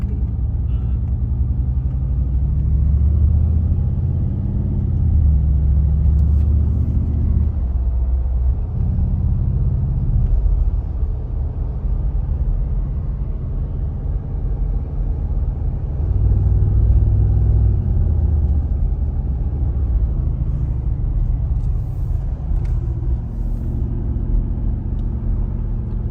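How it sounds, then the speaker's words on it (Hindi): Busy traffic crosses a bridge over a port area, a dense continuous rumble of car and heavy vehicle engines heard from inside a slow-moving car, loud and steady with swelling passes. "इस ब्रिज पे ट्रैफिक कितनी है कि गाड़ी तो स्ट्रेट तेज चल ही नहीं सक रही"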